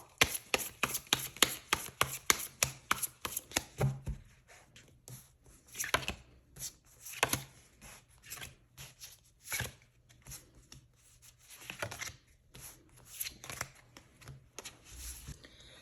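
Tarot cards are shuffled by hand, giving a rapid run of crisp riffling snaps at first, then slower, spaced slaps and flicks as cards are cut and drawn, close and clear with no talking.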